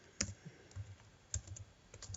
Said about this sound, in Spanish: Voy a teclear